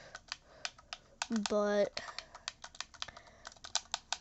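Rapid, uneven button clicks from typing a message with a Nintendo Switch controller during an Among Us match, continuing steadily around a brief electronic chime in the middle.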